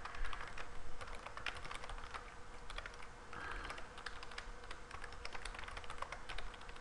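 Rapid, continuous keystrokes on a computer keyboard, close and fairly quiet, with uneven clusters of taps and no voice.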